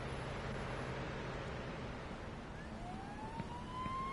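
Ambulance siren in the police video game PSPO, a wailing tone rising and sweeping in over a steady noisy ambience, fairly faint and distant, with no talking.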